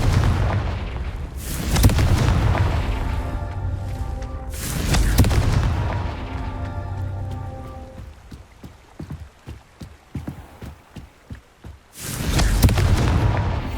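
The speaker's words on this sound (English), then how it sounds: "Confringo!" Confringo fire spell bursts in Hogwarts Legacy, landing as loud booming explosions with rumbling tails, then a rapid run of sharp crackling impacts before another heavy blast.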